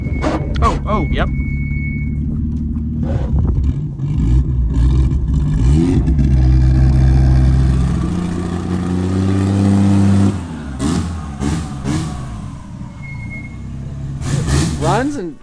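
Nissan GT-R engine running and revving in an unfinished build, loud and close with rising and falling revs throughout, while people talk over it.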